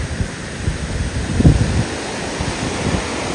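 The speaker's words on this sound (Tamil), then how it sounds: "காற்று வேற லெவலில் இருக்கு" Strong wind buffets the microphone at Valparai in the hills of Tamil Nadu, India, a rough, gusty roar with a louder surge midway through, no speech heard.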